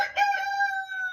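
A rooster crows once, close and clear, in a single sustained harmonic call that trails off, with no other sound around it.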